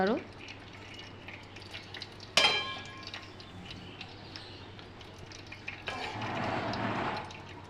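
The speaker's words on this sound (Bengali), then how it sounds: "এরকমভাবে চেপে চেপে এই টমেটোর জুসটা বের করে নিতে হবে" Tomato juice drips and squelches as fresh tomatoes are pressed through a strainer by hand, with soft wet squeezes, a sharper splash near the start and a thicker gush of liquid later on, close and fairly quiet.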